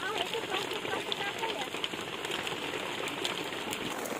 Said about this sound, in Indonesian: Kondisinya hujan. Dari semalam hujan terus.